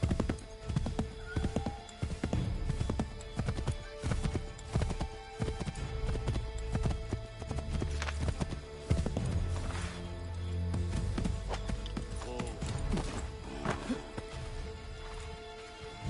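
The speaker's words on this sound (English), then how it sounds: "Get back on the horse, Connor" Horse hooves gallop in the Assassin's Creed 3 video game, a fast, continuous clip-clop rhythm up close, with occasional whinnies and busy game sound effects throughout.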